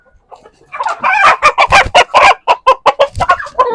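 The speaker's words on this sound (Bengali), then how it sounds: "আপনাদের আরো কিছু মোরগ দেখাই" Loud roosters crow close by, their calls overlapping with bursts of clucking in a rapid, choppy series, among tiger chickens.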